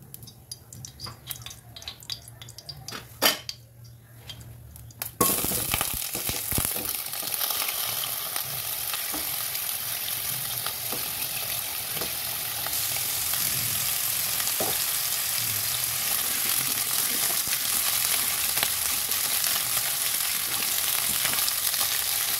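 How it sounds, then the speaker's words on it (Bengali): Spring onion, coriander and green chili sauté in a little oil over a high gas flame, a steady loud sizzle that starts abruptly and continues with occasional stirring taps, after a quiet stretch with a few kitchen knocks. "এবারে এগুলো একটু সতে করে নেবো। সামান্য তেল দিচ্ছি।"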